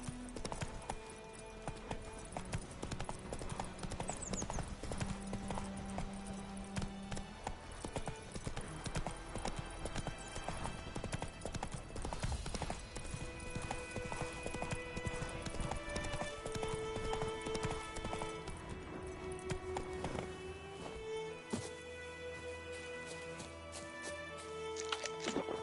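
Horse hooves clip-clop steadily through a galloping ride in The Witcher 3, joined by an occasional whinny. A dense, continuous game score runs loud underneath the hoofbeats.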